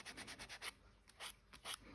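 Rhythmic dry rubbing of a sanding block over an old label, a burst of about six quick strokes, a pause, then three or four more, close and fairly quiet with no voices.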